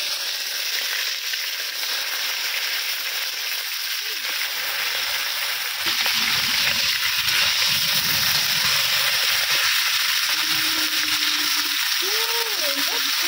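Cauliflower florets go into hot oil in a pan and fry with a steady, loud sizzle. The sizzle swells and grows denser partway through, with faint stirring and scraping underneath and no speech.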